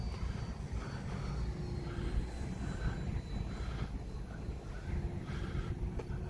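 A fast RC jet airplane in flight with flaps and landing gear being retracted, a steady distant engine roar that holds evenly throughout, with no talk.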